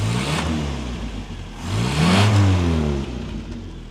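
An old petrol car engine catches and revs, a close, loud rising-and-falling roar that swells to a peak before settling back toward a steady run.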